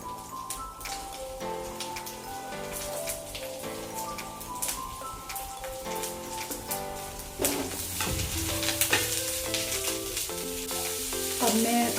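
Sliced onion and green chili frying in a little oil in a pan, a crackling sizzle under a layer of melodic background music, growing louder and busier partway through.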